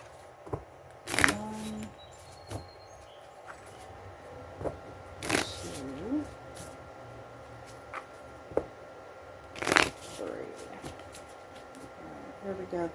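Tarot cards are shuffled and cut in a few brief, crisp riffles spread apart, with light taps and handling noises in the quieter gaps.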